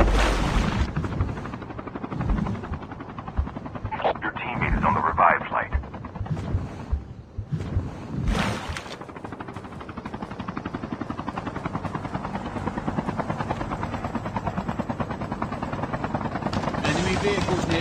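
A revive-flight helicopter in the mobile shooter Call of Duty Mobile gives a steady rotor drone through most of the stretch. Game voice lines and effects play over it in places.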